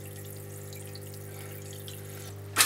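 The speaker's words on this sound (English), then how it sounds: "got a constant flow of water just running down on that" Water runs steadily from the hose of a Clarkes parts washer onto a part, a continuous gentle flow over a low pump hum, ending in a brief louder splash.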